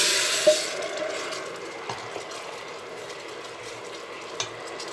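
Thai braising liquid for a pork leg simmers in a pot, giving a steady soft bubbling hiss with a few faint clinks, close and fairly quiet throughout.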